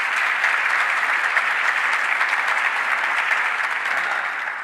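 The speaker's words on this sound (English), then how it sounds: "Let's give our state delegation a round of applause as well." Loud, continuous applause from an audience at a political event in Rochester with the New York governor, dense clapping sustained throughout and easing slightly at the end.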